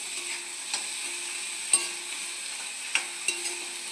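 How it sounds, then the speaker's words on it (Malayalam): Sliced onions sautéed in a pan, a soft steady sizzle with a few sharp scrapes and clicks of a spoon stirring against the pan, quiet and close, no voices. "സവാള ഇത് നന്നായിട്ടൊന്ന് വഴറ്റിയെടുക്കുക"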